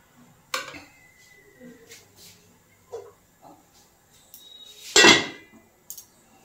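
A pot lid goes over eggplant cooking on a stove: scattered light clinks and taps of cookware, then one loud metallic clank as the lid lands, followed by a small final tap.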